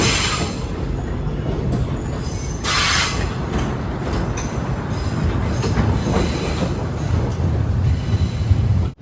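The Malaysian jungle train from Johor Bahru to Tumpat runs through forest with a steady, loud rumble of wheels and carriages, marked by bursts of high metallic wheel squeal.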